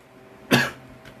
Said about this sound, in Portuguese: ó a tosse